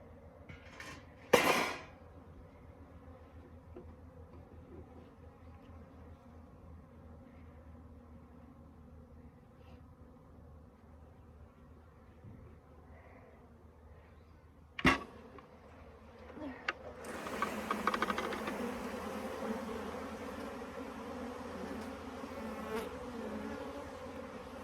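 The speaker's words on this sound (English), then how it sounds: "So this is after a bee removal, and I'm just gonna unpack them." Live honey bees in a box after a bee removal hum in a steady low buzz throughout, broken by a couple of sharp knocks and a burst of louder rustling and buzzing as the box is opened.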